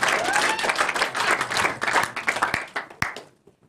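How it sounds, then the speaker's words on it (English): A crowd claps in a burst of applause for a man during a family dispute gathering over house ownership, dense at first then thinning into scattered claps toward the end, with some voices mixed in. "Make we clap for him."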